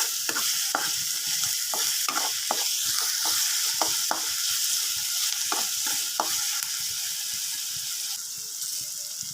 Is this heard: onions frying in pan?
yes